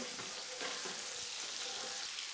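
Vegetables stirred into a hot pan over low heat while making a veal stock, a quiet, even frying crackle with light scraping of the utensil throughout.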